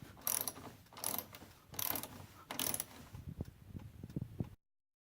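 A hand ratchet tightens the side mirror bolts on a 2006-2010 Hyundai Sonata: four bursts of rapid, close clicking, followed by softer scattered clicks.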